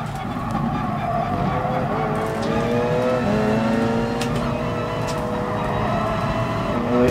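Race car engine droning and shifting pitch as the car slides out at Fuji Speedway in the GT Sport video game, with faint tire scrubbing, loud and continuous.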